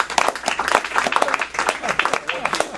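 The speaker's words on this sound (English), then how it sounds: "Well, let's give them a round of applause." Seminar audience applauds after a presentation, a dense burst of close, loud hand clapping that runs through the moment without a pause.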